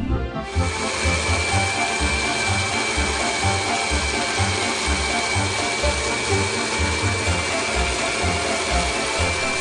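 Gemini Taurus 3 tile shaper with a Mega Blade grinding through granite: a loud, steady motor whine with a pulsing low throb as the blade works the stone, continuous and close after a brief spin-up.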